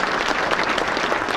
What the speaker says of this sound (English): Once again, big round of applause for Bobby Lewis, ladies and gentlemen.